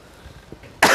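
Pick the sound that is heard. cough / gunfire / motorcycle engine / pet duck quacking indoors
cough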